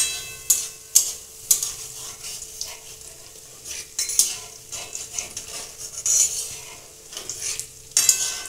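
Pitha of sweet batter, Bengali style, fries in hot oil and puffs up. Loud crackling sizzle runs throughout, with sharp repeated spatters and clinks from a utensil against the pan.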